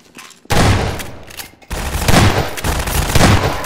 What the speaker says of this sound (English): Wow, you took a shotgun shot to the chest, and you were unaffected.